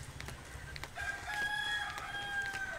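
A rooster in an Indian village crows one long drawn-out cock-a-doodle-doo, loud and close, with faint clucking from other fowl just before it over a quiet rural background.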